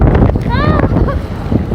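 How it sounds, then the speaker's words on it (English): Strong wind gusts blow during a heavy snowstorm on a city street, roaring and buffeting the microphone with a few faint whistling tones, under a person talking. "It's very, very, very, very windy."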